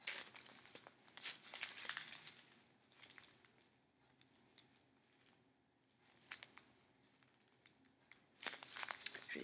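Soft crinkling and rustling bursts of a gift package of tea being opened, coming in uneven clusters with quiet gaps between, close and fairly faint.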